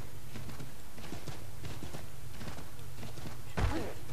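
Horse hooves clopping in the video game Assassin's Creed 3, a steady run of soft hoofbeats through most of the stretch, ending in a louder thud near the close.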